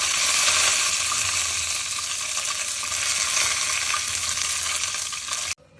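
Curry leaves sizzle hard in hot sesame oil while tempering coconut chutney, a loud, steady crackling hiss that runs unbroken and then cuts off abruptly at the end.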